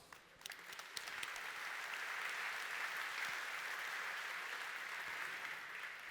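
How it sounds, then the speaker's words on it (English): Audience applause fills a keynote hall at a corporate technology event in Munich, a broad, steady wash of clapping that swells in and holds evenly for several seconds with no voices over it. "So a big round of applause."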